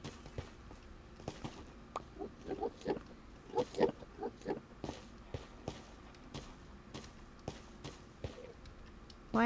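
Pigs oink softly in the Minecraft video game, several short grunts scattered over light tapping footsteps, faint and close with no talking.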